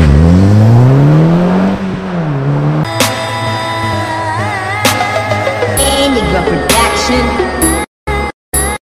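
An Audi S3 8P with Haldex all-wheel drive revs hard in an attempted burnout: a loud, close engine climbs and dips, then rises in bursts and cuts out abruptly near the end.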